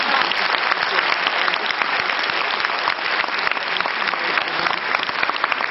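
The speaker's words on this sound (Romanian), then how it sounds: "Ar trebui aplaudate de către dumneavoastră în această seară." An audience at a ballet studio show applauds the dancers with dense, steady clapping that fills the whole stretch, loud and close, with no talking above it.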